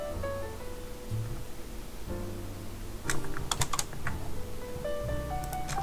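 Computer keyboard keys clack in a short cluster of sharp taps midway, close and clear over a steady background hum, with no voices, while working in Illustrator.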